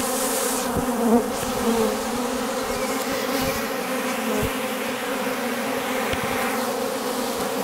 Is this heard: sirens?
no